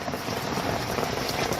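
Rainwater rushes fast through an opened block and down into the ground. It is a steady, loud, close wash of flowing water with no break and no voices.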